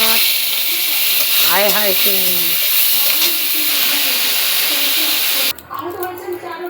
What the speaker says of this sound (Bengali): কড়াইতে তেল দিয়ে দিয়েছি, এবার দিয়ে দেবো চিংড়ি মাছ।